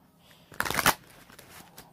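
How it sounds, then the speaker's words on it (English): Tarot cards being shuffled, a quick burst of riffling papery flutter lasting under half a second, close and fairly soft, followed by faint handling rustles. "Shuffle three more times."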